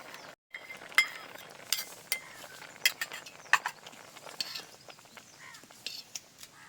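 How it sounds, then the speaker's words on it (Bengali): Spoon clinking against a steel pot while stirring dissolved Amul milk for a bottle gourd rice pudding, giving sharp, scattered metallic taps over a quiet background. "এই আমুল দুধটা আরও একবার নেড়ে চেড়ে দিয়ে দেবো"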